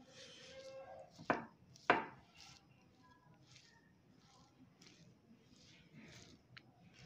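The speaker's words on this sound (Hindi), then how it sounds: "अब हम इसे अच्छी तरह से मिक्स कर लेंगे।" Chicken cutlet mixture with green onion and coriander being mixed by hand: two sharp knocks early on, then soft, quiet squishing and patting movement close by.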